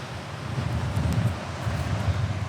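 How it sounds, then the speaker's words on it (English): Steady wind gusts across the microphone on a rocky seashore where waves crash, a dense continuous roar with low rumbling buffeting and no clear breaks. "It's still feeling pretty windy."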